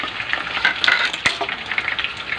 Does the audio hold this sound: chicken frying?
yes